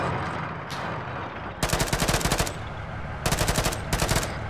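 Machine gun fire in the video game Arma 3, rapid sustained bursts, one long and two shorter, loud and close over a rumbling noisy background.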